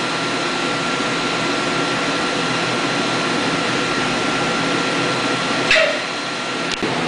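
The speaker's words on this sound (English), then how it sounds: "Move the machine manually with an electronic hand wheel here." DMG Deckel Maho DMU 50 Evolution CNC machine being jogged manually with an electronic hand wheel, giving a loud, steady mechanical whir throughout with a brief click and a sharper tick near the end.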